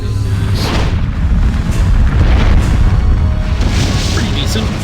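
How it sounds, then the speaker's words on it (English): Firework attack in the Septerra Core video game, a loud deep boom followed by a run of rumbling bursts and crackling blasts that swell and fade over several seconds. "Just firework on these guys."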